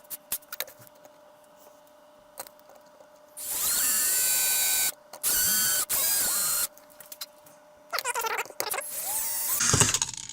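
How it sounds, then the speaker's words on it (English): A power drill boring out the switch of a vintage flashlight, several loud whining bursts of a few seconds each separated by pauses, with small mechanical clicks and handling noises in between. "I think I am gonna have to drill that out."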